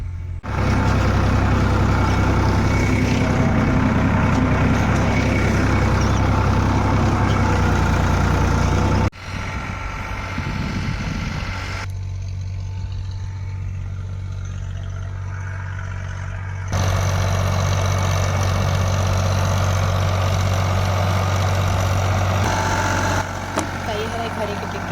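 A tractor engine runs loud and close while ploughing a flooded rice field. The steady low rumble drops in level partway through, then returns to full strength.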